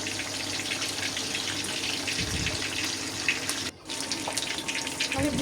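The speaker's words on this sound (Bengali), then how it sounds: "এইভাবে চাপে চাপে ভাজতে হবে মাছ।" Fish fries in a pan of oil over low heat, a steady, fairly loud crackling sizzle that runs through the whole stretch with a brief dip near the end.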